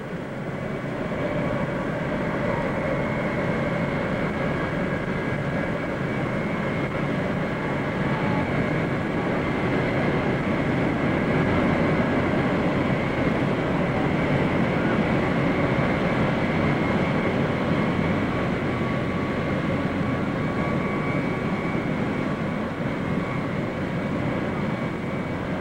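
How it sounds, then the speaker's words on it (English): A Qantas jet airliner's engines roar continuously as it swings around, loud and sustained for the whole stretch, with faint voices now and then underneath. "we'll probably have to stop talking because of the noise of these jets as it swings around"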